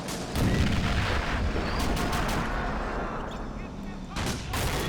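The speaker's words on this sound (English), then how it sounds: "there goes the artillery again firing off" Artillery fire in Men of War: Assault Squad 2 thunders throughout as a dense, loud rumble of overlapping booms and gunfire, with sharper shots breaking through near the end.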